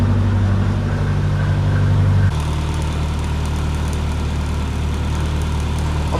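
A car engine idles with its drive belt under reduced tension, a steady low mechanical hum that shifts to a rougher, busier tone partway through, close and without speech.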